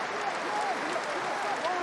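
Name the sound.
stadium crowd applauding at rugby match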